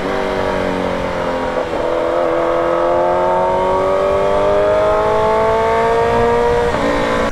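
A modified Suzuki Hayabusa superbike with a loud aftermarket exhaust rides along, its engine droning steadily at close range and slowly rising in pitch as it accelerates, with no talk over it.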